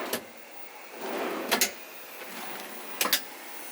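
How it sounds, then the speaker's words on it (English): A deep drawer in a campervan slides open and shut, giving three short scraping clatters spaced about a second and a half apart, close by, with no talking. "it's a nice deep drawer there."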